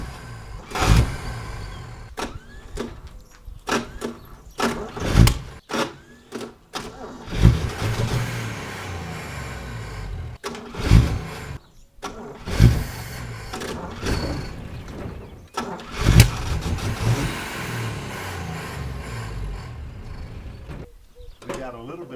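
A Willys jeep engine runs and revs in repeated bursts, rough and rumbling, with loud surges between quieter idling stretches and people talking over it.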